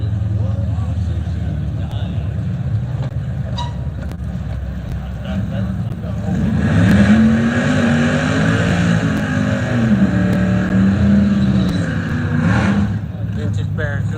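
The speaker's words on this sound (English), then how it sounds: "This all-wheel drive Audi versus a Hellcat." An all-wheel drive Audi racing a Dodge Hellcat, engines roaring with a rising rev as the cars accelerate over steady crowd and road noise, loud and continuous.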